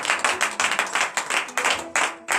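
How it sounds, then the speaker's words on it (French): Rhythmic, close hand clapping from a church congregation during morning prayer in Benin, a brisk series of sharp claps in steady pulses with brief gaps, loud and without talk. "donnez de vivre acclamation à Seigneur"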